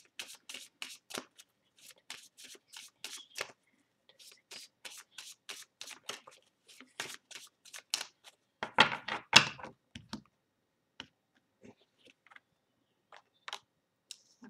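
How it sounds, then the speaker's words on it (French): A deck of cards being shuffled by hand for a reading, with repeated crisp riffles and flicks in close bursts, a denser flurry near the middle, then sparse taps trailing off, in a quiet room. "Donc je vais battre les cartes."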